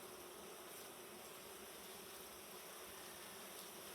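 Honey bees buzz continuously around a beehive in autumn, forming a dense, steady drone close to the microphone, with no voices.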